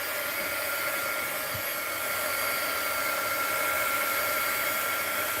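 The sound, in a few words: heat gun drying a painted art journal page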